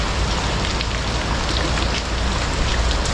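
A steady downpour of heavy rain near a river and a bridge, loud continuous spattering and hissing of drops on surfaces, unbroken throughout with no talk.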